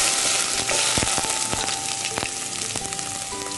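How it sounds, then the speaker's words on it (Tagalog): Ginger fries in hot oil with a dense, continuous loud sizzle, close up, cut by a few sharp clinks and scrapes of stirring, with no talk. "So mainit na yung mantika natin mga kajunjun, pwede na natin isalang yung luya muna"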